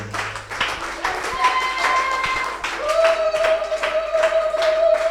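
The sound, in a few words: church congregation applauding the Lord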